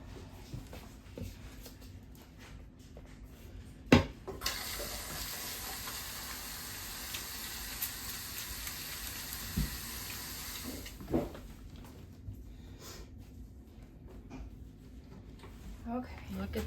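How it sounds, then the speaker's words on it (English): A tap in a laundry room runs steadily as hands are washed, a broad hissing stream lasting several seconds between soft clunks, with a person talking faintly around it. "I'm gonna wash my hands in the laundry room"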